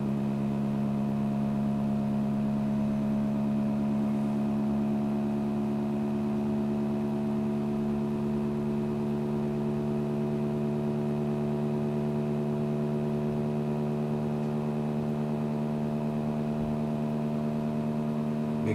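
A magnet motor with a relocated magnet and adjusted coil spins up past 400 RPM, giving a steady electric whir with stacked harmonic tones that hold level and close throughout, with no talking.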